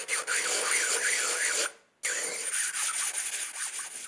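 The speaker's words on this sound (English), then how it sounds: "the bottoms of all these test pieces were given a thorough grind, for which I used some diamond core tools" Diamond pads grinding the bottoms of black stoneware clay test pieces, a steady close abrasive rasp that breaks off for a moment, then resumes with a rhythmic scraping texture.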